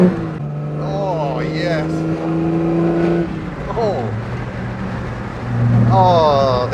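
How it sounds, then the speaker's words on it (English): A 1952 Jaguar road-test car's engine drones steadily, then gives quick rising rev blips during gear changes, loud and close under a voice. "Bit of rev blip in it, just helps the cogs engage."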